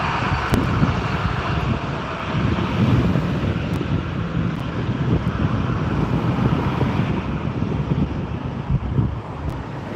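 TUI airliner passing at Newcastle Airport on a crosswind day gives a steady, loud jet roar that fills the whole stretch, with gusts buffeting the microphone and no talk.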